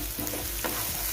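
Maggi masala frying in a pan, a steady close sizzle with faint stirring scrapes and no voices.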